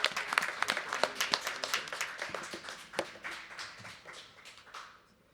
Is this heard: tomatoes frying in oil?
no